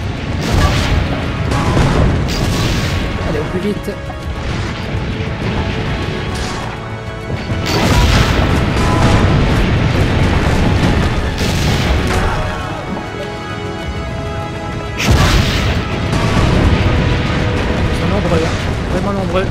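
Heavy cannon blasts and crashing impacts boom through a battle scene in Assassin's Creed Brotherhood, with loud bursts around 0, 8 and 15 seconds over continuous game noise while a player speaks.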